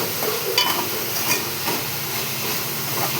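Onions frying in a pan give a steady, loud hiss and sizzle that stays close and continuous throughout, with faint stirring scrapes and no talking.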